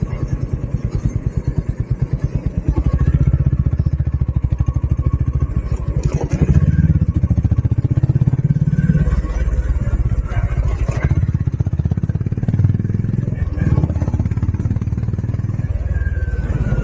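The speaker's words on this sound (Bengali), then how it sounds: "এই সায়নদার বাইক," A Honda H'ness motorcycle engine thumps with rapid, even firing pulses up close, then runs on with a fuller, rising rumble and revs on a morning ride by a riverside in Kolkata.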